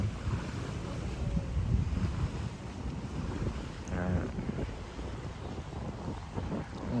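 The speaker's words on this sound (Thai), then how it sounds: "บรรยากาศแบบนี้ลมแรงมาก" Strong wind buffets the microphone at a Ping riverside park in Chiang Mai while water surges along the bank, a continuous low roar with gusty swells and a brief faint voice.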